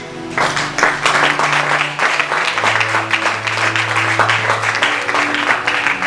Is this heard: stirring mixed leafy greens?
no